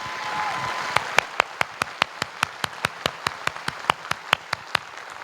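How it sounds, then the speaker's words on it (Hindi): An audience applauds a senior, Hari Vikram Singh Rathore, at a success day event, with sharp individual claps ringing out at a steady rhythm over a softer bed of crowd clapping, moderately loud and close. "मैं चाहता हूं तहे दिल से जोरदार तालियां उनके लिए भी होनी चाहिए।"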